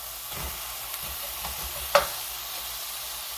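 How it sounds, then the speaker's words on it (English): Frozen peas go into a frying pan with onion and garlic, a soft low sizzle with quiet stirring and one sharp tap partway through. "I also have some peas, so I'm gonna put some peas too."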